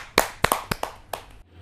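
Brief, sparse clapping at a kavi sammelan as a poet is welcomed: a handful of distinct, separate hand claps over under two seconds, near and fairly quiet, with no voices.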